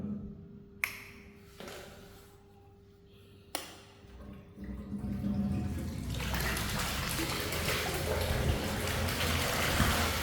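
Water circulates through an aquaponics tank fitted with a UV filter, starting as a few faint clicks over a low hum before a steady, fairly loud rush of flowing water takes over and continues to the end.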